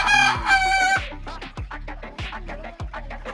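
Farm chickens raised as egg layers, with a rooster crowing loudly near the start and then a run of irregular close clucks and squawks from the flock.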